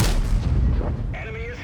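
A tank gun fires in a video game, giving one heavy booming shot with a rolling tail, followed by a short high-pitched whistle and ringing tone.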